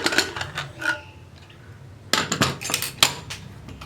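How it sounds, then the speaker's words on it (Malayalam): Metal clanks and rattles as a pressure cooker lid is opened once the pressure has gone, with the cooker holding parippu (lentils) and raw banana curry; quieter handling is followed by a louder burst of clattering near the microphone. "അപ്പോൾ നമ്മുടെ കുക്കർ പ്രഷറെല്ലാം പോയിട്ടുണ്ട്. നമുക്കിനി ഒന്ന് തുറക്കാം."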